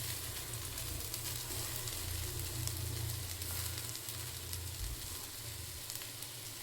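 Noodles and vegetables for egg fried noodles sizzle hard in a hot pan as they are tossed, a steady dense crackle with low rumbling underneath throughout.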